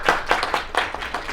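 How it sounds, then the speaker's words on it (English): A short burst of audience applause for a lab team at a university talk, brisk close claps from a small group heard alone. "Let's give them a round of applause."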